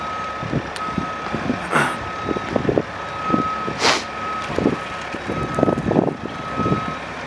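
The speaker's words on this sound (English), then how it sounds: "2021 Bobcat T66 skid steer" Reversing beeps sound from a 2021 Bobcat T66 skid steer, a steady high tone repeating under engine rumble and scattered clanks, with a couple of short hissing bursts, close and fairly loud.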